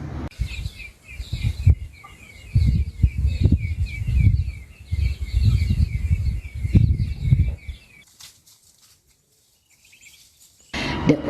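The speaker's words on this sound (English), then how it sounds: "The place is now very quiet, with only the sound of chirping birds and the movement of animals." Birds chirp and call steadily at an abandoned, now-quiet factory, a high repeating twitter running over low rustling and movement for most of the stretch, then dropping to near silence before a brief return.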